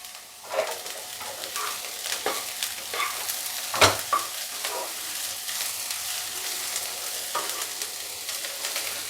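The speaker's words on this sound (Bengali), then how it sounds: "বেশি পুড়িয়ে ভাজার দরকার নেই" Carrots and capsicum sizzle quietly in a pan while a utensil scrapes and stirs them in irregular strokes, with one louder clatter midway; no talking.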